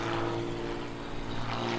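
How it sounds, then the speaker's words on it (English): An Extra 300 aerobatic airplane at an airshow roars at full throttle, a loud, steady propeller-engine drone with a strong buzzing tone that holds constant throughout the brief moment. "Throttle is all the way up."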